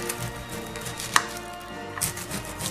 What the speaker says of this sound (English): First we gotta chop our onion.